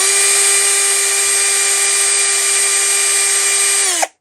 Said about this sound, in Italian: Guardiamo quindi il mandrino e vediamo se ruota dritto